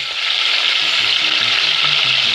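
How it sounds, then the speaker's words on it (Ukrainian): Veal frying in a pan, a steady loud sizzle with a continuous crackling hiss close up, no talk. "Обсмажуємо до легенького."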